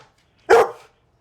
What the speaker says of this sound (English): What a dumb dog.